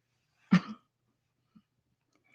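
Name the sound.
throat clearing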